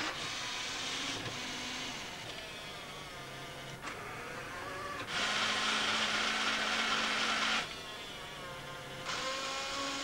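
A fischertechnik model machine drills a workpiece, giving a steady motorized whir that steps between several pitches and intensities and has a louder stretch in the middle, close up with no talking.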